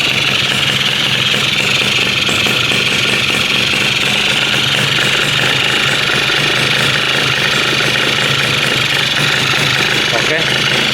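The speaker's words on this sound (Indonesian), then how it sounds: "Cuman ini suara langsamnya kasar itu akibat lama nggak dihidupin guys." A Yamaha F1ZR two-stroke motorcycle, long left unstarted, idles roughly and steadily at close range for the whole stretch, a loud continuous engine drone with an uneven, knocking texture.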